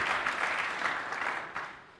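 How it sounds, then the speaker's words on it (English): Applause from a conference session audience at a Microsoft tech event, a dense steady wash of many hands clapping that holds strong for the first second and a half, then gradually tapers. "you should all give yourself a big round of applause"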